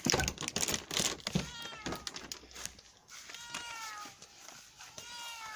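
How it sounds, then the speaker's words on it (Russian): A cat at a home animal shelter gives several close, short meows in a row, with soft clicking and shuffling noises between the calls. "Вот это вот кот"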